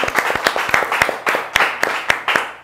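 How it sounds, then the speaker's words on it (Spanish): A studio audience breaks into coordinated applause on a TV show, a burst of sharp, rhythmic handclaps close by and loud, steady for a few seconds with no voices over it. "Así que un aplauso."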